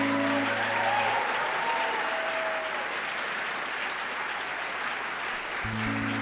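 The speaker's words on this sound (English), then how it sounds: "a round of applause" Audience applause after a presentation, sustained and even, a thick wash of many hands clapping continuously throughout with a faint low tone in the background at start and end.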